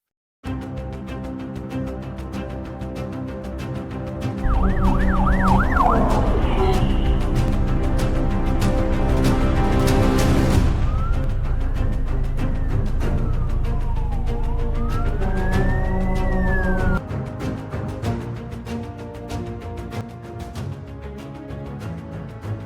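A fire truck siren wails on a road, loud and close, with quick yelps giving way to long rising and falling sweeps over the rumble of traffic, then dropping back.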